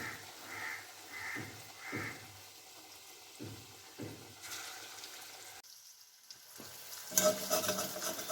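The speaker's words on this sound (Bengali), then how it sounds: "এগুলো একটু লাল করে ভেজে নেওয়া হবে।" Raw banana kofta frying in oil until reddish sizzles softly in a pan, broken by intermittent stirring scrapes and a few brief louder bursts, with a brighter, louder hiss near the end.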